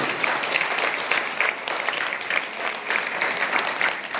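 An audience applauds in a dense, even wash of clapping that holds steady and close for several seconds with hardly any voices.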